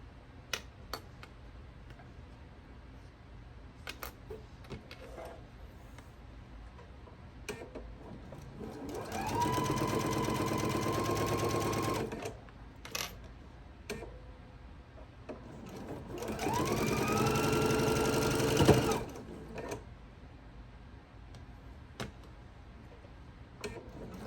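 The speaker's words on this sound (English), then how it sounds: "I'm going to be sewing across this top part." A sewing machine stitches a scant quarter-inch seam across the top of a quilt block, running in two sustained bursts of rapid whirring separated by quiet pauses with light clicks and handling.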